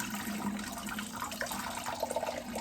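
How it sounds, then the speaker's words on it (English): Hot pasta water drains out in a steady, continuous rushing pour with faint splashes, close and fairly even throughout. "Draining the pasta out."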